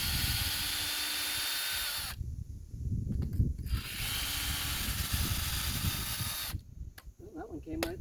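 Power drill backing screws out of a wooden concrete step form, with steady mechanical whirring broken by short pauses between screws and a person speaking briefly near the end.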